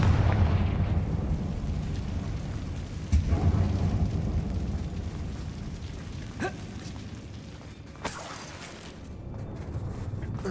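A Confringo spell explosion in Hogwarts Legacy lands as a dense rumbling blast with crackling debris and a few sharp snaps, a broad sustained roar at full loudness with no talking.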